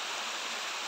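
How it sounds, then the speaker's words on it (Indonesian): A small jungle waterfall at a stream, a steady broadband rush of falling water heard close and continuous for a brief moment, no voices. "Inilah pemandangan air terjun di sini."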